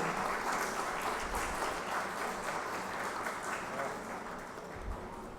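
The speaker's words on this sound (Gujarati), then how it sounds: "તાળીઓ આપણી બંધ ના રહે એનું ધ્યાન રાખીશું" A dense, continuous round of applause from a seated audience at a Mahuva taluka panchayat farewell and felicitation ceremony, steady throughout and slowly easing toward the end.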